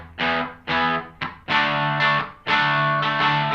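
A Mad Professor BlueBird Overdrive pedal drives an electric guitar into gritty, amp-like clipping distortion with a touch of delay, several strummed chords ringing out one after another, loud and close with no voices.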